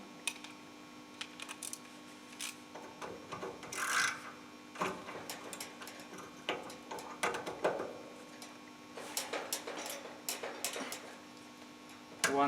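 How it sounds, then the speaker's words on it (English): Ratchet wrench turning a nut counterclockwise off a Peugeot 307 rear shock absorber: irregular clusters of faint, close metallic clicks and ticks over a low steady hum. No one speaks. "I remove the nut counterclockwise, and it's going nice."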